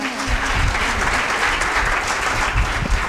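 An audience applauds at a poetry book launch for the collection 'Umalatya Kalya', with steady, dense clapping that fills the room at close range for the whole stretch and has no talk over it.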